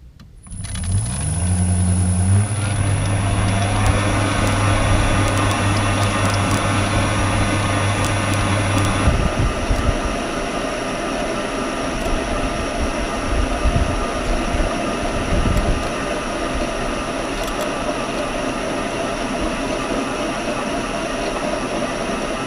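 Electric motor cultivator with a frequency drive milling green manure into a field, a loud steady motor whine and grinding drone that ramps up at the start and runs continuously with rough churning underneath.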